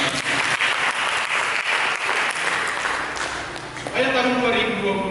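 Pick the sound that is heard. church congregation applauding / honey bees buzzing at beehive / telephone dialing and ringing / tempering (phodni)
church congregation applauding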